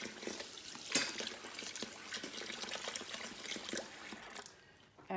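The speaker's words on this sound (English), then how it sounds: "So I'm just going to give that a quick rinse." Water runs and splashes steadily over an oven rack during a rinse, a continuous close hiss and trickle lasting several seconds before it stops at the end, with no voices.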